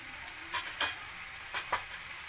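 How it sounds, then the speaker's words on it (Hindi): Mixed vegetables sauté in a pan for a masala dosa filling, with a soft, steady sizzle underneath and four brief scraping stirs from a spoon, all close by with no talking. "थोड़ा सा भून लेते हैं सबको।"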